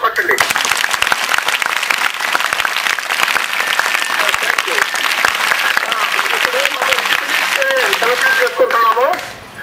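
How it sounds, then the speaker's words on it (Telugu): An audience at a government high school gold medal function applauds loudly and steadily, many hands clapping in a dense burst while some voices sound over it. "ఇంకా గట్టిగా చప్పట్లు కొట్టండి."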